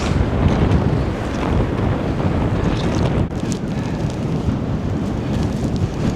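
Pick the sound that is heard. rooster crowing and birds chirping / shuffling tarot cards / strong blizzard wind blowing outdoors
strong blizzard wind blowing outdoors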